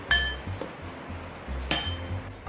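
Seasoned chicken meat for chicken lumpia being mixed in a bowl with salt and pepper, giving sharp clinks of a utensil against the bowl, a couple of bright strikes amid soft repeated knocks and low thuds.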